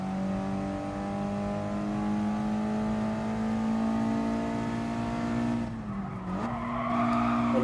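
In the GT Sport racing game, a 1996 Mitsubishi Lancer Evolution 4 engine whines loudly as its tires screech in a long sustained skid, the pitch dipping briefly before the engine note climbs again.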